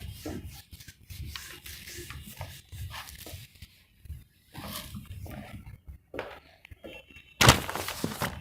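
A board being rubbed clean during a classroom lecture, with close repeated scrubbing strokes in bursts and pauses, ending in a louder sharp swipe.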